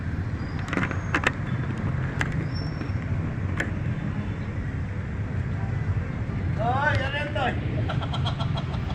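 A motorcycle engine gives a low, steady rumble throughout, close by, with brief higher whines near the end, while people talk over it.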